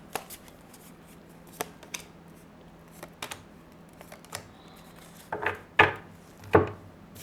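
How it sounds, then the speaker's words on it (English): Tarot cards being shuffled and three drawn, producing sparse soft clicks and taps followed by a few louder brushing snaps near the end, close and quiet. "now let's take out 3 cards here"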